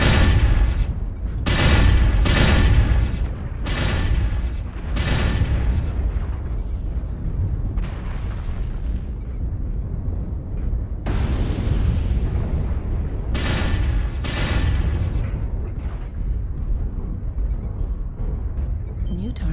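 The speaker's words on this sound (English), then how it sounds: "Airstrike online." A barrage of heavy airstrike explosions in a video game, booming blasts arriving in quick clusters with deep rumbling low end and sustained roaring debris between impacts, loud and close throughout.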